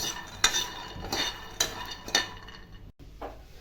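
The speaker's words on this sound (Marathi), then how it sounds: "अर्धी वाटी शेंगदाणे आपण इथे भाजून घेत आहोत" Half a bowl of peanuts dry-roasting in a pan and being stirred with a spoon, giving a series of sharp scraping clinks and rattles roughly every half second, close and fairly clear, with no voices.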